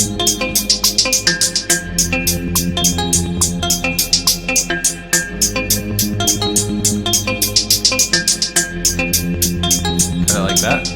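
A drill beat programmed on a Maschine plays loud and steady, with rapid hi-hat triplet rolls ticking over a deep bass and a looping melody.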